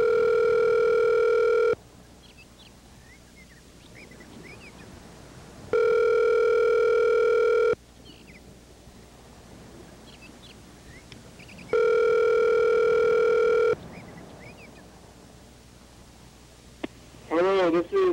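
Telephone ringback tone in three long, loud steady bursts separated by pauses, a quiet line between them, ending with a brief chirp just before a voicemail greeting would begin.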